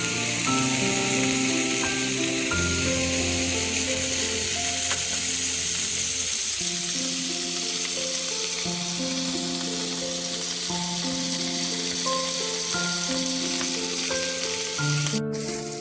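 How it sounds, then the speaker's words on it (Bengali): Hilsa fish fry in hot white oil with a constant, dense sizzle that holds steady throughout, while background music plays along underneath. "এবার আমি মাছগুলো এর মধ্যে ভেজে নেব। খুব বেশি ফ্রাই করবো না, হালকা করে এপিট ওপিট ভেজে নেব।"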